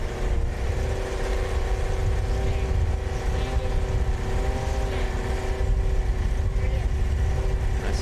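A Formula SAE race car runs an autocross course, its engine giving a steady, buzzing mid-distance drone with slight pitch shifts across the whole stretch.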